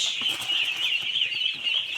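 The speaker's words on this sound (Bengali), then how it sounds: "এই হলো পিকিং স্টার হাঁস" Pekin ducks calling at a duck farm: a close, continuous chorus of high, overlapping peeping calls from several birds, with nobody talking.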